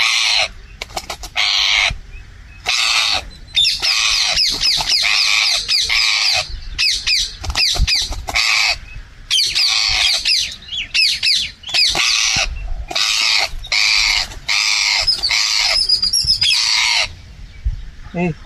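A green parakeet caught in a net squawks loudly and harshly in rapid, repeated bursts with short gaps, close by, for the whole stretch.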